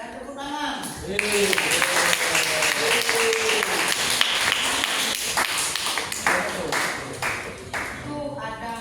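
Classroom applause from a group of students, a dense burst of clapping lasting several seconds between a teacher's spoken remarks at the start and end.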